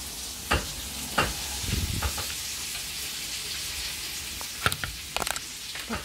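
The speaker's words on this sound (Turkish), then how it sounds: "Soğanlar pişiyor, evet, ufak ufak." Small pieces of onion fry in a pan with a continuous soft sizzle, broken by several sharp clicks and scrapes of stirring, close and fairly quiet, with no talk.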